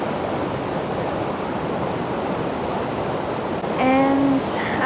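Flowing water outdoors behind a yoga class, a steady broadband rush throughout, with a brief bird-like chirp near the end.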